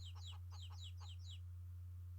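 Chickens clucking in the video game Chulip, a quick run of six high, short chirpy clucks in the first second and a half over a steady low electrical hum, with no talk.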